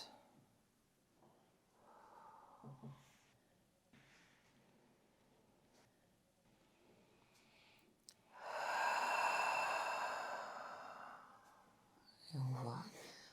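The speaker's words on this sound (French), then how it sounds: "on entend la respiration de la personne qui se détend tranquillement" A person lying relaxed during a back massage breathes slowly and softly up close, with one long, louder exhale like a sigh midway and a few faint breaths around it in an otherwise quiet room.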